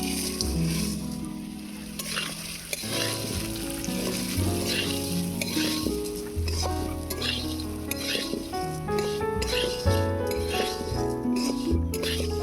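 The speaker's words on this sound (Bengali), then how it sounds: "এবারে কড়াতে দিয়ে দিচ্ছি দুই চামচের মতো ঘি এবারে সেমাইগুলো ভেজে নেব" Vermicelli (semai) fries in about two spoons of ghee in a pan, giving a steady crackling sizzle throughout with occasional stirring clinks, over background music.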